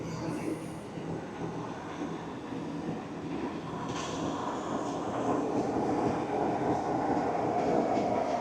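Steady rumbling sleeper train noise on the Caledonian Sleeper from London to Fort William, hauled by locomotive 92010, with a continuous low roar that grows slightly louder over time, like riding inside a moving railway carriage.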